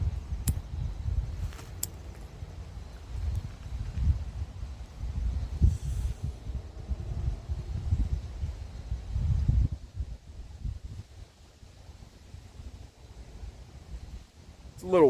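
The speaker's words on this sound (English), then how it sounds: "It's a little windy out here" Low rumbling gusts of wind buffet the microphone, rising and falling steadily, with no one speaking.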